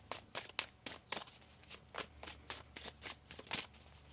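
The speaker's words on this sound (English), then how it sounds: "One more shuffle." Tarot cards riffled and shuffled repeatedly in quick, crisp bursts of papery flutter, close by, with a steady low hum underneath.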